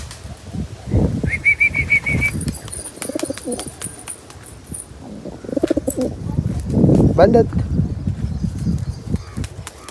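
Pigeons coo repeatedly at close range, with bursts of wing flapping and bird chirps among them, while someone talks over much of the scene.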